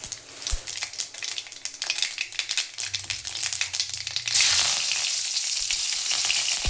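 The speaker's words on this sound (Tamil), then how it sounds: "கடலெண்ணெய் கொஞ்சோண்டு ஊற்றிட்டு கடுகு போட்டிருக்கேன். அதுக்கப்புறம் கருவேப்பிலை போட்டுடலாம்." Mustard seeds popping and crackling in hot peanut oil, then a sudden louder burst of sizzling as curry leaves hit the pan, close and continuous.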